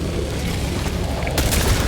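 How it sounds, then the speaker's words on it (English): A grenade goes off in the co-op shooter Helldivers 2. A single loud, broad boom bursts in partway through, over an already noisy, rumbling battle bed. "Throwing grenade!"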